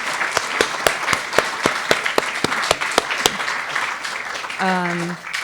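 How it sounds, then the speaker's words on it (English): Audience applause at a symposium, with scattered individual claps that ring out over a steady patter of clapping. A voice starts speaking near the end. "Please stand up and get a round of applause"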